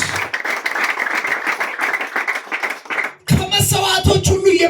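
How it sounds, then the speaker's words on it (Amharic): A church congregation claps together in a loud, dense burst for about three seconds, then a voice speaks over the room. "እንዲሁ በነፃ አጨብጭቡ ለዚህ ለእግዚአብሔር ልጅ ለኢየሱስ።"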